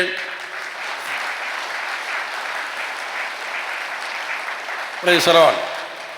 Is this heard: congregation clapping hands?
yes